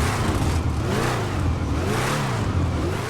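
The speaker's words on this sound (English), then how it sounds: "I just love the exhaust tone on this car" A classic V8 car engine revs in GTA Online, a deep throaty exhaust rumble rising and falling in pitch over a few seconds.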